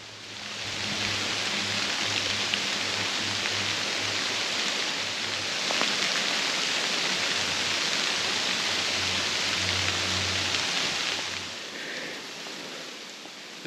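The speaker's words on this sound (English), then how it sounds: "Hopefully this rain will let up a little bit" Rain pours steadily onto leaves in a wooded area, a dense, even hiss that holds from start to finish and eases slightly near the end. There are no voices.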